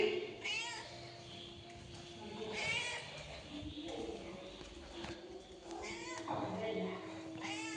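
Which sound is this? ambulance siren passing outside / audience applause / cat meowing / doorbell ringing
cat meowing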